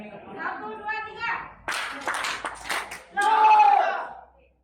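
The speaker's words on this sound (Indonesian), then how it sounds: "Tepuk tangan dulu dong." An audience at a seminar session claps in a short burst of applause, dense and fairly close, set between stretches of a voice speaking before and after.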